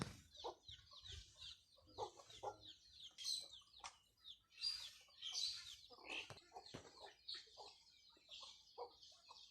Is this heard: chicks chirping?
yes